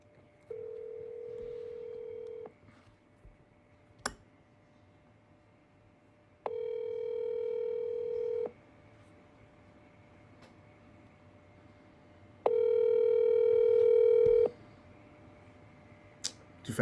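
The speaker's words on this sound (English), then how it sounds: "I'm calling Mo right now" Phone call tones: three separate steady electronic tones of about two seconds each, with pauses between them, plus a few faint clicks, heard alone at moderate loudness.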